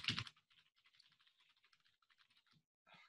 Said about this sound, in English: It's your keyboard.